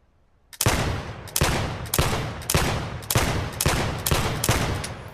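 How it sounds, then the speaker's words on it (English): A revolver used as a sniper pistol fires in the VR shooter Vail: about eight loud, sharp shots come at a steady pace roughly every two-thirds of a second, each ringing briefly, with no voices. "moving on to the sniper pistol, or the revolver."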